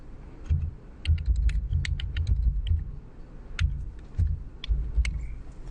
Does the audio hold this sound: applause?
no